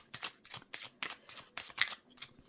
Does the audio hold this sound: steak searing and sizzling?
no